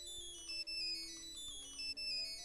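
A phone ringing in the Nancy Drew: Curse of Blackmoor Manor game, an electronic tonal ringtone repeating in two short bursts, clear and steady with no talking.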